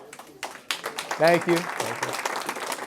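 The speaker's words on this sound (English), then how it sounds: "I mostly gave good news, so you're clapping." A live audience applauds after a chartered financial analyst's economic talk, with a short patter of clapping mixed under a speaking voice.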